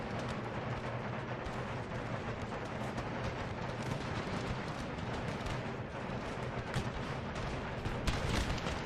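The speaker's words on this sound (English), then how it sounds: "Consists of constant musket fire and scattered rifle shots" A Napoleonic battle in a video game: a constant, dense roll of musket fire with scattered rifle shots cracking through it, heard from a distance as a steady wall of noise.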